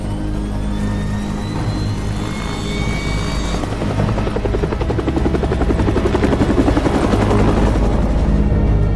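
A helicopter drones loud and steady throughout in a desert action movie scene, its rotor thumping growing more pronounced toward the end, with no speech over it.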